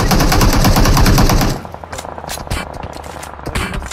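Loud, rapid automatic gunfire in a shooter video game, fired in sustained close bursts that drop to scattered shots and fainter crackles partway through.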